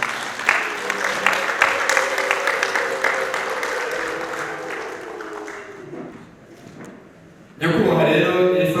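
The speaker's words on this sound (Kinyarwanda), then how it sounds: "Mwamupere amashyi n'impunura." A crowd at a family ceremony gives steady applause together with long, high ululation trills. Both fade out, there is a brief lull, and then a voice starts speaking.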